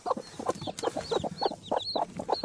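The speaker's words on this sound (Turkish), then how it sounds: "iki tane tavuk vardı. Bunlar civcivlerini çıkardılar." Hens with newly hatched chicks cluck close at hand in a coop, low rhythmic clucks overlaid with high thin peeping, continuous and fairly loud, with no talk.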